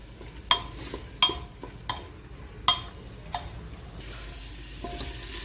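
Ingredients for bora rice pulao fry in a pan under a soft, steady sizzle, while a spoon scrapes and knocks against the metal in several distinct, irregular strokes, close and fairly quiet.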